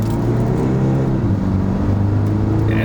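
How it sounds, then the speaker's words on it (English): A 2022 Kia Sportage diesel SUV in sport mode accelerates hard onto a highway, its engine drone loud and continuous inside the cabin, the pitch climbing and dipping slightly as it gathers speed. "I'm going to put the car into sport mode and let's give it some highway merging"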